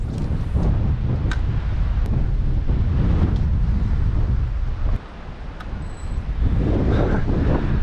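Strong wind buffets and roars across the microphone in steady gusts by docks on Florida's east coast, with a brief lull midway before blowing hard again; no talking.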